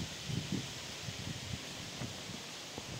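Wind blows through trees near castle ruins in the Sázava area, making a soft continuous rustle with a few low gusts and bumps, faint and steady with no voices.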